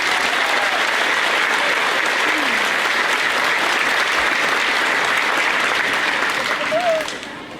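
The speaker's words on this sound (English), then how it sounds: "Let's give them a round of applause." An elementary school fifth grade graduation crowd applauds loudly and steadily, a thick wash of clapping that barely varies before tapering off briefly at the very end, with faint voices mixed in.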